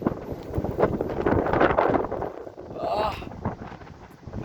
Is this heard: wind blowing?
yes